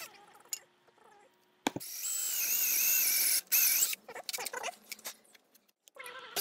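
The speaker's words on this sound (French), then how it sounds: "percez un trou qui perce en même temps le tasseau et le pied" A 16 mm wood bit drills through a wooden batten and leg, loud bursts of whining drill and grinding wood separated by pauses and scattered knocks.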